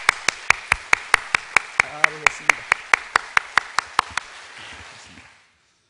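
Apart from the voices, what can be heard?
audience clapping to welcome newcomers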